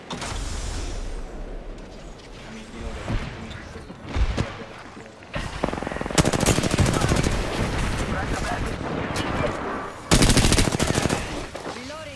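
Gunfire in a shooter video game: sustained automatic bursts and single shots over a steady background, with sharp loud volleys that crack in near the middle and end, along with clanking mechanical noises and a faint voice underneath.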